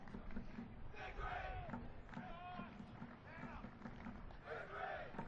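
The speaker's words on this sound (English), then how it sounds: "There's that crowd." Stadium crowd of loyal 1906ers supporters at a Miami FC soccer match roars and chants in a steady, dense wash, with swelling cheers rising over continuous noise.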